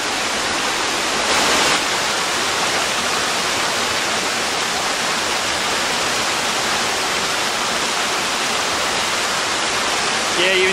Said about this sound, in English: I guess we'd call curtain falls coming off the edge there